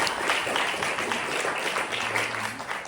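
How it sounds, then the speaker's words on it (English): Concert audience in a community center applauds with a steady wash of clapping, moderately loud and even throughout, without any talking on top. "let's give them a round of applause for this community center"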